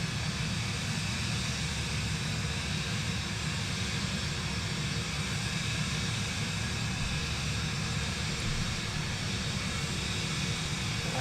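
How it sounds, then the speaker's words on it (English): A small plane's engine drones steadily inside Microsoft Flight Simulator 2024 on a snowy flight from Oulu to Tornio in Finland, a constant loud broadband roar with no breaks. "I know this plane is a little loud"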